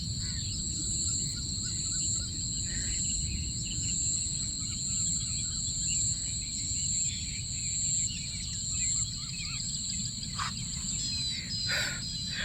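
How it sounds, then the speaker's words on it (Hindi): Morning jungle chorus with an Asian koel among many birds, steady loud insect and cricket drone throughout, scattered chirps and calls at moderate distance, no talking. "ये कोयल की आवाज़ है।"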